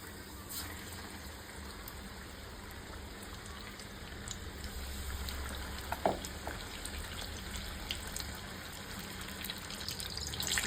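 Gram-flour-coated stuffed green chillies deep-frying in hot oil, a steady bubbling sizzle that builds slightly louder toward the end, heard close and alone.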